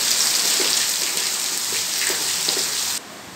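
Heavy monsoon rain pours down hard onto a rooftop and floods it with a steady, loud, close hiss of dense drops, without pause until a sudden drop in level near the end.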